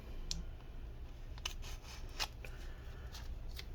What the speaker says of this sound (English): I'm gonna cut this thing open.